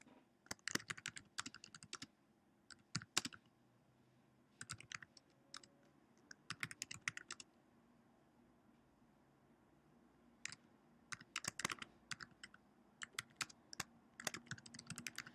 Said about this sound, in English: I'm going to type